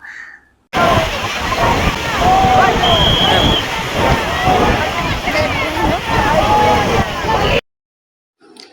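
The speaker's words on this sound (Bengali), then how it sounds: "সমুদ্রের ঢেউ দেখেছো কত জোরে জোরে আসছে আর কত জোরে হাওয়া দিচ্ছে" Strong sea waves surge and wash against the shore in Mumbai during Ganpati immersion after rain, with gusty wind buffeting the microphone in a loud, continuous roar; voices can be heard faintly in the mix.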